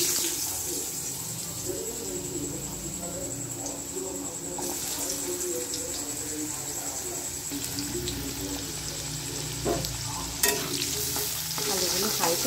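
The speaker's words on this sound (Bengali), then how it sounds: "এবার আমি আলুগুলো ভেজে নেব।" Potatoes frying in a pan while cooking muri ghonto, a steady close sizzle with scraping and stirring throughout and a few sharper clinks near the end, no talking.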